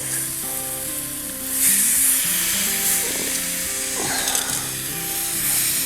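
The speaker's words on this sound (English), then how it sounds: "we're gonna turn these and get the sear on the other side" Pork loin searing on a grill, with a loud, continuous sizzle and hiss that flares up sharply as the meat is turned, plus occasional soft scraping.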